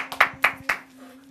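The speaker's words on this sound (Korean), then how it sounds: "박수로 청해드릴까요?" Three distinct hand claps ring out at an even, brisk rhythm at a Korean television magazine show, followed by a low steady hum.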